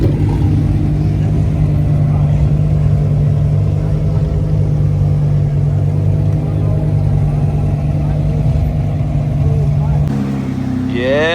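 A Rolls Royce Wraith's engine holds a steady, close low drone as the car pulls away, with a brief shift in the sound near the end.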